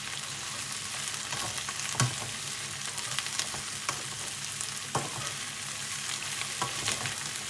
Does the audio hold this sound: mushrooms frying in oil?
yes